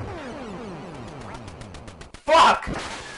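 A cartoon duck quacks in a retro shooting video game, one loud burst near the end following a stretch of descending electronic game tones, with no talk over it.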